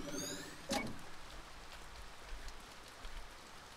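Steady rain falling in a video game scene, a soft even hiss with a brief brighter swish early on, heard alone without talk.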